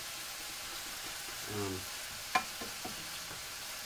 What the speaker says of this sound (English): We are going to stir this up.